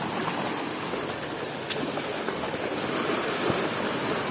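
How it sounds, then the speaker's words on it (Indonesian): Indian Ocean waves crash and wash steadily against sharp coral cliffs, a loud continuous roar of surf and spray with gusting wind buffeting the microphone and no voices. "ternyata ombak sampai sini"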